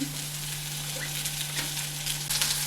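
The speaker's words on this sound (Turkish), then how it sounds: "Kırmızı biberlerimi atıyorum. Çok az tutam yağı ekliyorum." Red peppers sizzle steadily in a little oil in a pan for Korean japchae, a continuous crackling frying hiss with a low steady hum beneath and a brief louder flare near the end.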